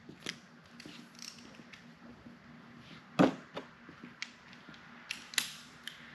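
Sockets being switched on a torque wrench while tightening engine connecting rods on a home engine build: faint metallic clicks and creaks, with one sharper ratcheting clatter midway and a few light taps, quiet and close.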